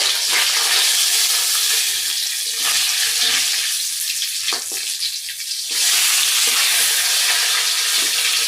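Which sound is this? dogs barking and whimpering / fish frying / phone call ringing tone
fish frying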